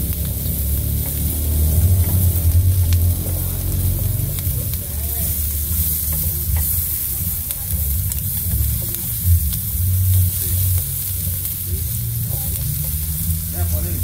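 Food fries in a Rochedo aluminium frying pan, a close and continuous sizzle with stirring scrapes as people talk over it.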